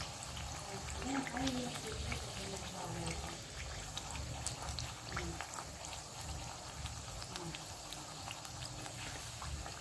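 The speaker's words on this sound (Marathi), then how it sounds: "छान तळून घ्या कच्च काढू नका" Bajra sweet puris frying in oil over a very low flame, a steady soft sizzle and bubbling that runs on quietly through the whole stretch, with a voice talking over it.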